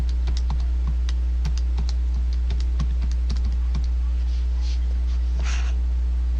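Calculator keys pressed to enter new values into a matrix, a series of light, irregular clicks and taps over a steady low hum, with no talking.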